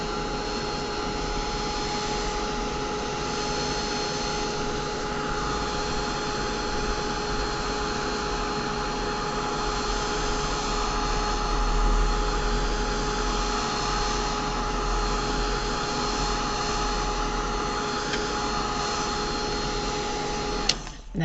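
A craft heat tool drying embossing dots on a card blows a steady, loud whirring roar with a constant motor whine, unbroken for about twenty seconds until it clicks off at the end.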